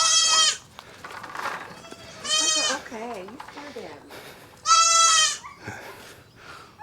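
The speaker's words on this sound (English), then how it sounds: "our other goat's in there" Goats on a homestead bleat loudly in three long, strained calls spread across the moment, close by, with quieter murmurs and rustling between them.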